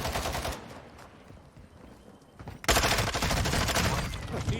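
Assault rifle fire in the battle royale game Warzone 2.0 on Ashika Island: a quieter start gives way to a sudden, loud burst of rapid automatic shots that keeps rattling to the end.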